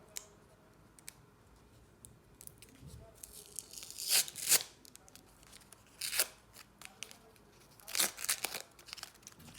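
Crinkly paper tearing in several short rips as a paper surprise packet is opened, with soft rustling and handling noises between them, close and fairly quiet.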